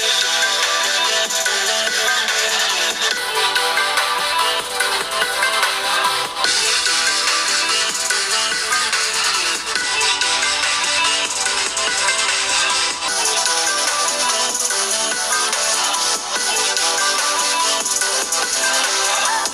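Several smartphones, including a Mi 10i with stereo speakers, play a bright test sound through their speakers, loud and continuous with shifts every few seconds as each phone takes its turn.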